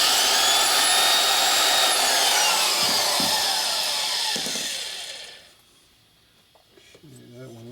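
A Harley valve seat being ground in a cylinder head on a machining setup, a loud sustained whirring grind with shifting pitch that winds down near the end, followed by faint quiet workshop sounds.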